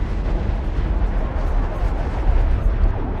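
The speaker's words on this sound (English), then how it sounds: "Imperial ships are firing on us." Starship weapons fire striking a facility in the video game Star Wars: The Old Republic, a continuous rumbling barrage of booms and blasts throughout.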